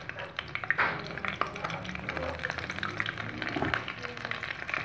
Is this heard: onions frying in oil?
yes